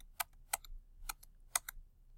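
Calculator keypad buttons pressed while entering numbers, a handful of sharp, light plastic clicks spaced irregularly, close and fairly quiet, with no voices.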